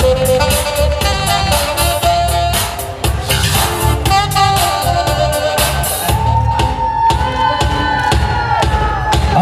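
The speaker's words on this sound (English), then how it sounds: "please, a big round of applause" A crowd at a wedding reception cheers and whoops loudly and continuously, with shouts standing out over a dense, close roar of voices.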